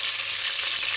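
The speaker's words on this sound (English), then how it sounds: "frying fish fillet" Fish fillet sizzling steadily in a hot frying pan, a dense, even crackle of oil with no break and no voices, close and fairly loud throughout.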